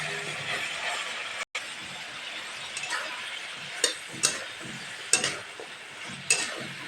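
Tomato and spice masala frying in a pan for a rohu fish curry, a steady soft sizzle with a spatula scraping and periodic sharp clinks against the pan.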